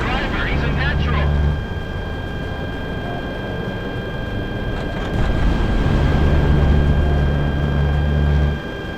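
A jet plane flying in Project Wingman, a steady loud engine roar that holds for the whole time, with voices talking over it and low droning tones that come and go.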